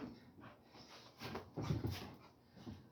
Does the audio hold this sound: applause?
no